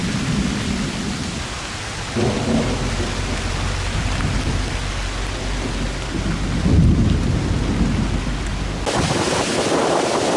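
Heavy rain pours down outdoors during a thunderstorm near a cornfield, with rolling thunder and wind buffeting the microphone, loud and continuous throughout with no voices.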